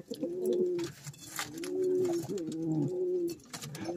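A pigeon coos in repeated low, throaty phrases, close by and clear, with no talk over it.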